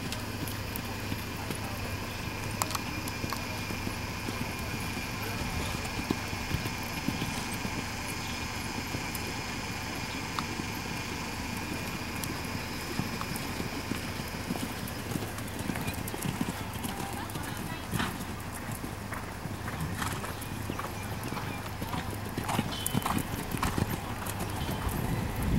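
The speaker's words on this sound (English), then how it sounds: "Canter, please, now canter." Horse cantering in a flat class at a show arena, with steady rhythmic hoofbeats under continuous background noise and an announcer's voice calling instructions.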